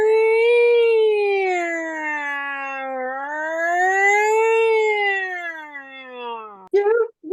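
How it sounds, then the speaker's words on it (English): Air raid siren from a radio drama set in wartime, a long rising and falling wail that swells and fades over several seconds before cutting off into a brief noise. "Oh, the air raid siren went off."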